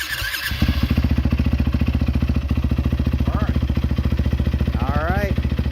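Yamaha WR450F dirt bike kicked into life, a quick starting burst settling into a loud, rapid, even idle thump close by, with a couple of short squeals over the engine.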